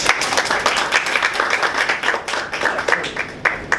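Toastmasters club members applaud a speaker after his evening speech, steady and fairly loud clapping from a small room crowd with distinct individual claps, lasting throughout and unaccompanied by speech.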